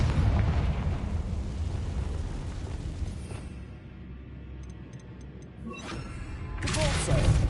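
A Confringo explosive spell goes off in a Hogwarts video game, giving a loud blast with rumbling debris that fades, then a second burst near the end.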